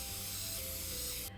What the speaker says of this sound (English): we're gonna spray each pan with our Bake Easy here